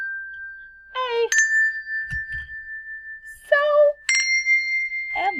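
A set of colored handbells in a children's music lesson, rung one after another with bright, clear tones that ring on and overlap, with a brief soft knock between strikes.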